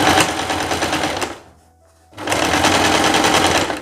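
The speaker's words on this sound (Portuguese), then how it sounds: "A gente já vai passar uma costura, um pesponto aqui em cima para bater essa costura de baixo." Sewing machine topstitching along a seam to hold down the seam allowance beneath on a princess-sleeve romper, running loud and steady in two bursts with a brief pause between them.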